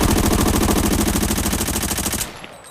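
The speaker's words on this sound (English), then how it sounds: "I'm gonna position myself right over here and shoot this dummy" A fast, even burst of M4 rifle fire at a training dummy in the shooter Arena Breakout. The shots are loud and close and roughly two seconds long, then stop abruptly.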